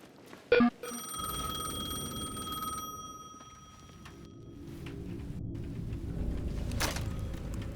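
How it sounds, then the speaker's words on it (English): An old payphone at the edge of a plaza in the video game Alan Wake II rings with a bright mechanical bell, one long burst followed by low ambient rumble and faint drone. "The payphone at the edge of the plaza was ringing again."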